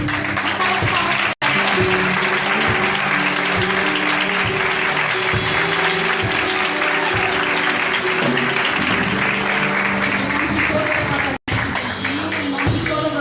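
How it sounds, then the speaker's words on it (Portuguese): Congregation applauding at a family church service during a gift presentation to a mother, sustained and loud with music or voices underneath, briefly cut by two short dropouts. "Uma salva de palmas."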